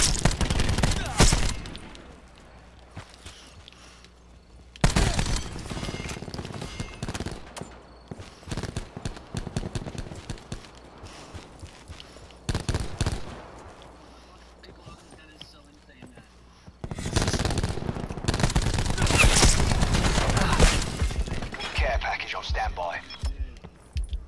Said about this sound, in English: they're shooting towards me